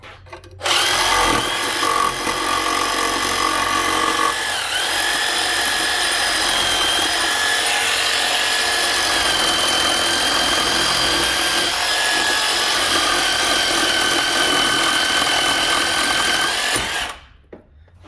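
A blade scrapes rust from corroded rear brake parts on a very rusty Honda Ridgeline, a steady, close, harsh rasping that runs almost without a break for about sixteen seconds, with no talking.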